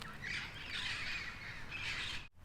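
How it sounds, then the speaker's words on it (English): Several crows caw and squawk in the background outside a house in Los Angeles, a steady harsh chorus that holds for about two seconds before cutting off abruptly. "there's a bunch of creepy crows in the background"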